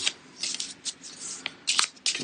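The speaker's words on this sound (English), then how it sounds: "we take that card, we put it in there, give everything a shuffle up" A deck of cards is shuffled during a tabletop game of the dungeon board game Aventuria, Inn of the Black Boar, giving several quick, crisp riffling bursts close by, with brief pauses between them and no talk.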